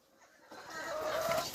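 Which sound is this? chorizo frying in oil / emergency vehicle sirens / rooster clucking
rooster clucking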